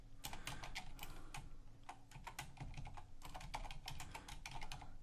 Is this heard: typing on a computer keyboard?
yes